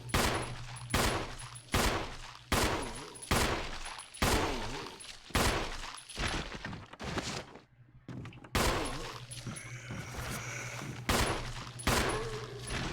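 Repeated loud gunshots fired at an enemy in Resident Evil Remake, evenly spaced single booms about one per second with a short pause midway before more shots.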